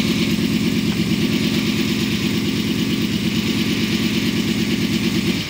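A loud, steady idle from a 1981 Chevrolet Corvette C3 Stingray engine with exhaust baffles removed, a rough, rapid low-frequency pulsing and raw, unmuffled exhaust rumble, continuous throughout without any talk.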